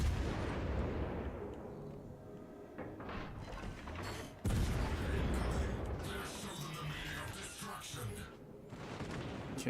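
Naval guns fire in the warship video game World of Warships: Legends, repeated booming shots and mechanical clatter rolling over a dense battle soundscape, with a sharp loud salvo midway and voices talking over it.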